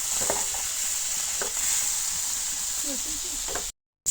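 Chopped tomato, onion, ginger and garlic fry in a pan with a steady close sizzle and a few stirring scrapes, then a brief silent gap before the hiss resumes.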